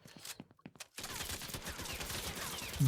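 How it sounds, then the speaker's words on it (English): Grenades explode in a video game as a dense, crackling run of blasts, preceded by a few faint, separate pops and then continuing steadily at a low level. "the nades keep exploding like that"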